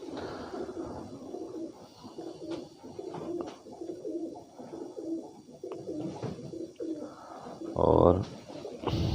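Pigeons coo in soft, repeated throaty rolls close by, with a few wing flutters and a louder burst near the end.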